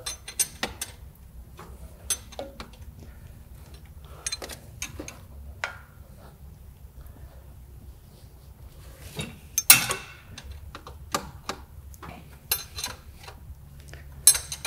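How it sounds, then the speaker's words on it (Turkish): Two bolts are tightened on an engine in a mechanic's workshop, giving sharp metallic clicks and ratchet-like ticks in irregular bursts against a quiet background, close by, with one louder clank near the middle. "İki tane cıvata sıkıyoruz."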